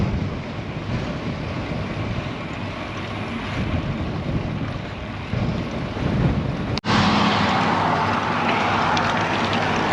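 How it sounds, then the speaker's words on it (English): Strong crosswind on a road bike ride along a rural highway shoulder, a loud, continuous roaring buffet of wind over the microphone that briefly drops out and then surges back even stronger. "Strong wind"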